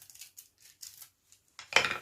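Scissors snipping through the tough leafy top of a home-grown pineapple, a brief cluster of crisp rasping cuts at the end after several soft faint scraping sounds.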